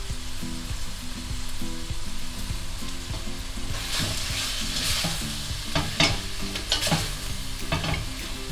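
Ground beef and vegetables frying in a pan for shepherd's pie, a constant sizzle with scraping stirs of a utensil, sharper strokes and clatter building in the second half.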